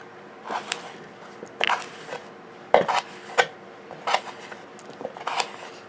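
An Ontario Knife Co. RAT Model One blade, cut near the heel, makes several short scraping, rasping slices through material in irregular bursts. The strokes sound close and moderately loud, with no talking.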